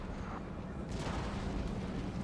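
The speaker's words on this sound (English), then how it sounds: "A lot of damage from LANSE's cannons, the 6-pounder and 8-pounder foot artillery here" Cannon fire from 6-pounder and 8-pounder foot artillery in the Napoleon: Total War video game, a dense, continuous low rumble of booms with a burst near the middle, moderately loud under faint background voice.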